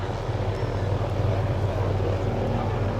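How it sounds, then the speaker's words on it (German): A large wooden RC model of a Pilatus Pelican SB2 with a Valach radial engine runs up for takeoff, a steady loud throbbing engine drone that holds constant throughout with no voices. "startet der Markus 1 mit dem Pilatus Pelikan SB2."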